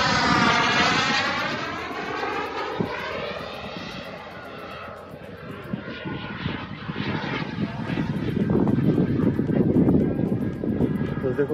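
A remote-control model airplane flying aerobatics, its small propeller engine whining loudly and rising and falling in pitch as it swoops overhead, with people talking nearby.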